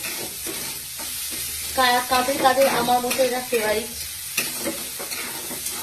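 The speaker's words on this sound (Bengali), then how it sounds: "তো এটা তোমার পেঁয়াজটা ভাজা ভাজা করতে হবে।" Onions frying and being stirred in a pan for crispy sweet corn, a close sizzle with repeated scraping strokes of a spatula while someone talks over it.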